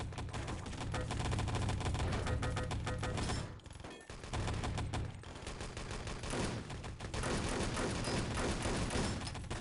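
Dense automatic gunfire in Enemy Territory, long rapid rattling bursts close and loud, with one brief gap near the middle before the firing resumes and continues to the end.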